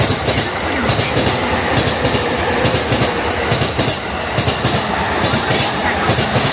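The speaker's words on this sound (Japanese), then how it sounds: "今度の4番線の列車は9時8分発、普通高崎行きです。" An E231 series train pulling into the platform at Saitama-Shintoshin station, with steady rhythmic clickety-clack of wheels over rail joints and a loud rolling rumble throughout, faint wheel squeal, and a platform announcement heard faintly beneath.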